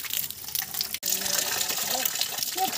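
A public drinking-water tap in a park in Karnali Province runs in a steady, hissing gush, close and continuous, with faint voices in the background.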